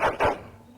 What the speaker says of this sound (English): Excited barking.